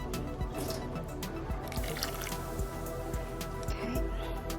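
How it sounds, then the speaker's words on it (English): Four tablespoons of hot water are added to a dalgona coffee mixture of instant coffee and sugar, heard as close, scattered drips and small liquid splashes over a few seconds. "Next, I will add 4 tablespoons of hot water."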